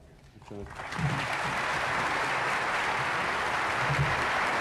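Deputies and senators rise to their feet applauding the King at the sanction of the 1978 Constitution, a sustained wash of clapping that swells after the first second and holds steady in a large chamber.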